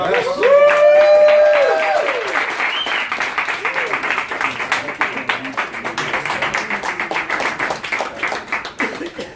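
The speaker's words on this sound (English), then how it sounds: "how about a big round of applause?" Enthusiastic audience applause, a dense rapid clatter of many hands clapping, opening with a brief musical flourish and fading slightly toward the end.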